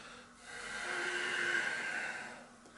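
A long, steady exhalation during a yoga cat-cow sequence, a soft breathy hiss that swells and fades over a couple of seconds, close and quiet with no talking.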